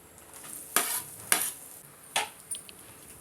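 Ivy gourd and grated fresh coconut being mixed in a pan for a dry fry: four or five crisp spatula scrapes spaced about a second apart over a faint sizzle, close up, with no talking.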